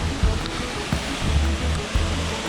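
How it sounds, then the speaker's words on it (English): Rushing water roars continuously with a broad, steady hiss, like falling water heard close, with a few soft thumps mixed in. "Here we have amazing heavenly waterfall."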